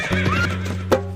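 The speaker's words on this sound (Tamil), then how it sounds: "குதிரை வருது பாருங்க, அது குதிச்சு வருது பாருங்க." A horse gives a loud, wavering whinny over a steady low hum, with a few clopping hoof beats and a sharp hit near the end.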